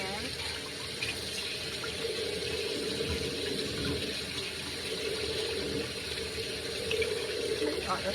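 Oxtails are washed under a running kitchen tap, giving a continuous rush and splash of water into the sink that stays fairly steady throughout, with low sounds of handling mixed in.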